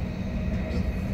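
Steady low rumble inside a moving passenger train on a Dutch rail trip to Den Helder, a continuous close drone of running gear with no distinct voices.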